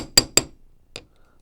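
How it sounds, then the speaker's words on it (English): A hammer taps metal wire on a steel block while shaping an S-hook clasp: two sharp, bright metallic strikes in quick succession, then a softer third tap after a short pause, close and clear in a quiet room. "I've got it on my steel block, and I'm just going to do a little tap, tap, tap"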